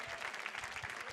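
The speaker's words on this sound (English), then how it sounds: "How about a big round of applause for the" Audience applause at a school fundraising event, honoring donor families in the room, a brief steady burst of many hands clapping, moderately distant and fairly quiet.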